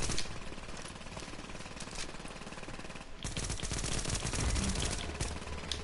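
Dense, continuous automatic gunfire in the Tom Clancy's The Division video game, loud and close, a steady rattling stream of rapid shots that grows denser and heavier partway through, with no voices.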